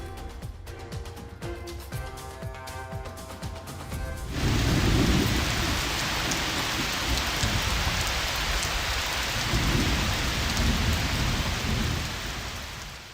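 Steady broad rainfall in Oman, a dense continuous hiss of rain on surfaces that rises sharply after a brief musical intro, with low rumbling swells like distant thunder.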